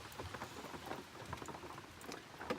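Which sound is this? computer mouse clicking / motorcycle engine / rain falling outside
rain falling outside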